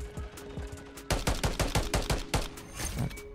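Rapid bursts of automatic gunfire from Call of Duty: Modern Warfare III, a few spaced shots followed by a dense run of sharp cracks, loud and close with no talk.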